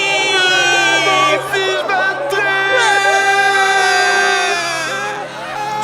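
Radio drama crowd scattering in fear, a loud wash of overlapping shouts and cries with strong tonal music or effects layered over it, rising and surging throughout.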